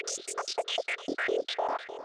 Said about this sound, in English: I have this preset in Serum, sounds like this.